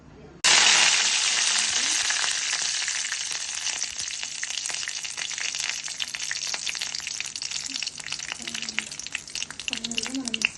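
Chana dal and urad dal sizzle sharply as they hit hot oil in a pan, a loud burst that settles into steady crackling frying, with a few faint background sounds.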